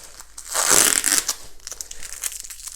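Packing tape is ripped off a parcel during an unboxing, a loud close crinkling tear swelling and fading over about a second, followed by softer rustling.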